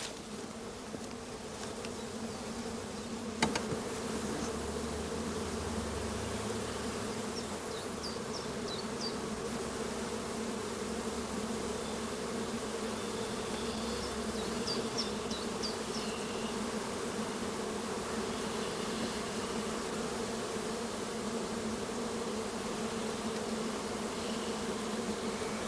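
A honeybee colony hums steadily at an apiary during a spring hive inspection, a dense, continuous buzz of many bees close by with no voices over it.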